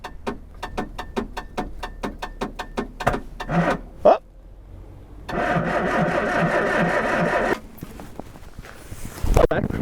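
A Classic Mini engine cranks over repeatedly in an even rhythm of starter strokes, then pauses, and later a steadier, louder whirring crank runs for a few seconds, close and prominent.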